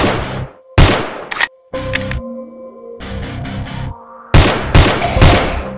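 Bursts of rapid gunfire from the zombie-shooter mobile game Dead in the Box, loud and close, arriving in several separate volleys with short quiet gaps and electronic game tones between them.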